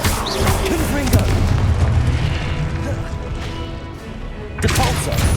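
Explosive Confringo spell blasts in Hogwarts Legacy gameplay, a loud, sustained rumbling boom with bursts layered over dense low-end combat noise, rising again near the end, and voices heard amid the battle.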